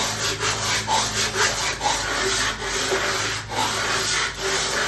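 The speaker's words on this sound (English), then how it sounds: "I put a piece of 80 grit stick it sandpaper on there" Guitar sides being sanded flat on 80 grit stick-on sandpaper under a weighted Corian slab, a loud, close, rhythmic back-and-forth rasp of wood on abrasive, repeating roughly twice per second with no talk.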